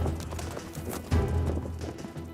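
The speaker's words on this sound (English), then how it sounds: "This is how the conquistadors would have ridden their horses." Hooves of a horse ridden in the Spanish jineta cavalry style thud and clatter close by in an uneven, quickening rhythm, with brief stops and starts and a possible snort.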